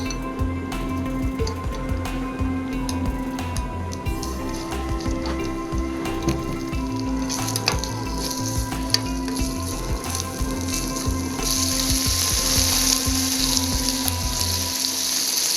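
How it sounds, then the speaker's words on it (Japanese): Bacon sizzling in a pan as the first step of Okinawan moyashi chanpuru, a steady close crackle with a steady hum underneath, growing brighter and hissier toward the end. "はじめにベーコンを炒めていきます。"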